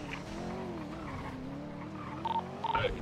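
Car engine and tire squeal in GTA RP as a vehicle speeds off, a steady engine drone with skidding screeches and a few sharp bursts near the end, no talking.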